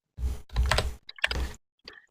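A computer keyboard clatters in three short bursts of close, crisp keystrokes with brief silent gaps between them, loud and alone with no voices.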